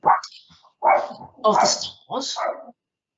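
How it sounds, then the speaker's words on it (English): A pet dog barks repeatedly in a home during an interview, several sharp close bursts spaced by brief pauses, with speech mixed in. "Do pardon my dog, who's just answering the door."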